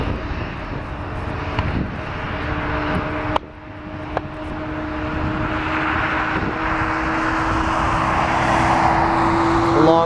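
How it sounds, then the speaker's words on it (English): An ERJ-175 jet taxis at Portland airport, its steady engine whine and broadband roar building slowly over ten seconds, with a sustained tonal hum and a couple of brief clicks partway through. "out in the distance, we got the ERJ-175 taxiing"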